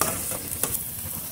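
Mashed potato filling with dry spices, for aloo paratha, fries in a pan while being stirred. A soft sizzle runs underneath, with a couple of quick scraping stirs in a brief moment.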